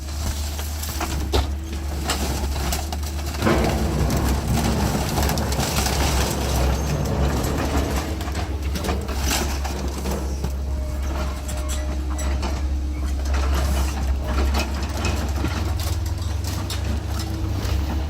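A 400-horsepower scrap crushing machine with a 20,000-pound frame works its jaws on a vehicle, a loud continuous grinding rumble with scattered metallic cracks and crunches throughout.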